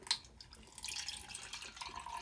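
Ice cold water trickles and splashes as it is poured into a double-walled plastic cup, a soft uneven liquid stream with small drips, close and fairly quiet.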